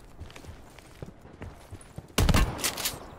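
Single loud sniper rifle shot in Call of Duty Blackout, ringing out sharply after a quieter stretch of soft footsteps and faint game noise, followed by a brief echoing tail.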